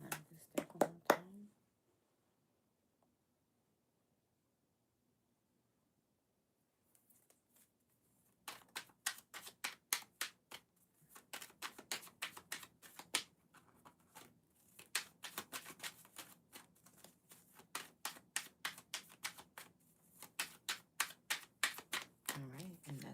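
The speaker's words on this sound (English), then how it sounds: "I'll do another quick shuffle." Rapid bursts of crisp tarot-card-shuffling riffles, several quick rounds separated by short pauses, close and fairly loud after a brief quiet stretch.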